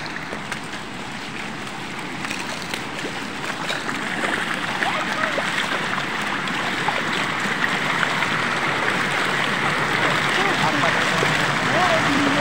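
Seawater at Digha beach flowing and washing in a shallow current, a continuous broad hiss and rush of moving water that swells slightly louder midway, with no talk heard over it.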